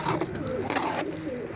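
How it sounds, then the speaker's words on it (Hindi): Pigeons coo softly inside a box, a low muffled cooing under a steady rustling background. "ये रहे अपने कबूतर"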